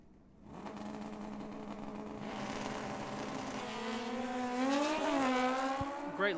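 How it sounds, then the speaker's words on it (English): Drag racing at Tucson Dragway, with a 1996 Kawasaki ZX9L and a 1996 Kawasaki ZX 1100 motorcycle launching together, the engines climbing in a loud, rising whine that swells for several seconds and stays close. "Justin Willison in our left lane in a 96 Kawasaki ZX9L"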